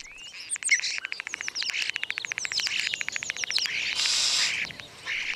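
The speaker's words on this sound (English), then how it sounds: "Starlings have fantastic songs full of whistles, gurgles, and pops." A starling sings a rapid, varied stream of whistles, clicks and buzzy chatter, close and clear, ending in a burst of harsh rasping notes.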